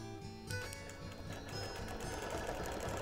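A longarm quilting machine runs steadily while stitching binding onto the edge of a quilt, giving a fast even mechanical chatter with a sharper tick near the start, and no talking.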